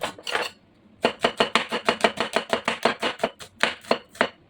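Onions being chopped with a knife on a cutting board for Ilocano inabraw, a fast run of about twenty sharp, close, evenly spaced knife strikes after a short opening burst, with no talking.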